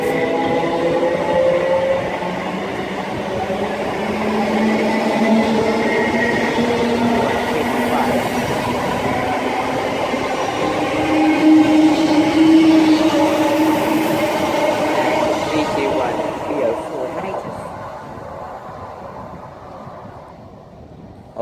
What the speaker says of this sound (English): the 1227 Greater Anglia service from London Liverpool Street to Colchester Town